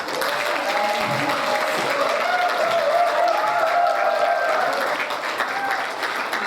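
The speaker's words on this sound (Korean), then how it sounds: "다시 한번 박수 드립니다" Sustained, dense audience applause fills a hall after a congratulatory speech at the Atlanta chapter's launch ceremony for the 22nd term of the Peaceful Unification Advisory Council. The clapping stays loud and steady throughout, with faint crowd murmur underneath.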